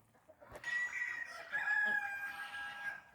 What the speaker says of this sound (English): Now they're giving the all clear crowing.